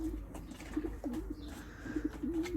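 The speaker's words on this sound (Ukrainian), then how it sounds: "Може варкують там голубі, да?" Pigeons cooing outside a balcony, repeated soft throaty coos in a loose rhythm, fairly near and clear over a quiet low background.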